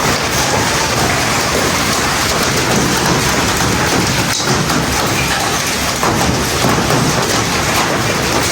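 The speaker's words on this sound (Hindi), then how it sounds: "यहाँ पे मैं आपको आवाज़ सुनाती हूँ, ओलों की आवाज़ यहाँ पे आ रही थी बहुत ज़्यादा ना।" Hailstones pelting down with heavy rain during a storm in Islamabad, a loud, dense and steady clatter that fills the whole stretch without letup and with no voices.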